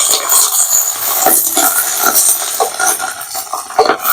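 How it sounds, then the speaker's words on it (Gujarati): Vasoti leaf greens with browned garlic are stirred in a pan, giving a steady close scrape and clatter of a spoon against metal over a soft sizzle, continuous and fairly loud, with no talking. "જો હવે આપણે હલાવી લઈશું."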